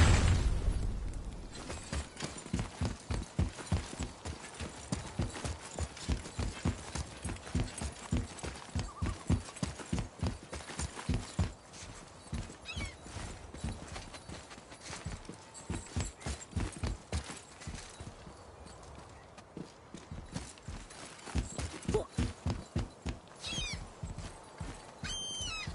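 In the God of War video game, horse hooves clip-clop in a steady, even rhythm for a long stretch, fairly close, with occasional neighs and mechanical creaks around them.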